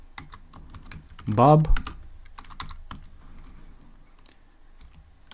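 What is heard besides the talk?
typing on a computer keyboard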